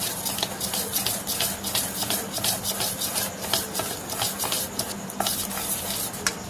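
Continuous close scraping and stirring of a thick cake batter of semolina, flour and oil in a bowl, with a steady rhythmic rasp of the spoon against the sides and no talking.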